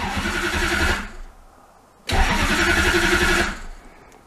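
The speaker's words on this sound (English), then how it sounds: "I'm going to crank it over with the key here" A Lexus LS400 engine cranked over with the key, heard as two loud whirring starter bursts of about a second each, separated by a short quiet gap, close and alone.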